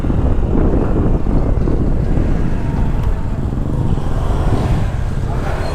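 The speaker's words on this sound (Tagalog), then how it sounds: "Testingin natin kung malakas yung makina nya." A Kymco Dollar 150i scooter engine revs on a test ride, a steady loud drone with rushing wind noise throughout, rising slightly in pitch without a break.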